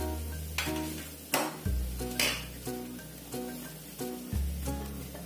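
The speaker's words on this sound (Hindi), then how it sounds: "जीरा जब फ्राई हो जाए" Cumin seeds sizzle and crackle in hot oil for veg Manchurian while a spoon stirs and clinks against the pan in a loose, repeating rhythm, close by.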